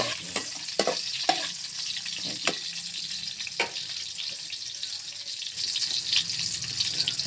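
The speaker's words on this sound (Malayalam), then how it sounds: "എന്നിട്ട് ചട്ടുകം കൊണ്ട് ഒന്ന് ഇങ്ങനെ ഇളക്കി കൊടുക്കുമ്പോഴേ" Food fries with a dense, close sizzle while a spatula stirs it, knocking and scraping against the pan in irregular clicks spread throughout.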